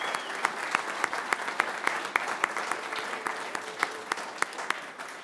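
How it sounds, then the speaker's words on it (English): Audience applause for students at a city council meeting in Radford, a steady, even patter of many hands with distinct individual claps, sustained across the whole stretch at moderate loudness. "Can we have a round of applause for those students?"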